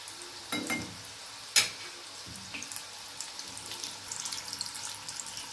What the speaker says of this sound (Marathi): मीडियम गॅसवरच आपल्याला हे तळायचे फास्ट गॅस करायचा नाही